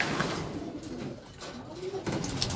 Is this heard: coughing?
no